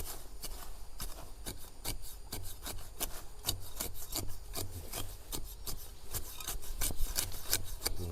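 A spade digs into soil to unearth young shoots. Rapid, repeated scraping strokes land close by at a steady pace, with no talking.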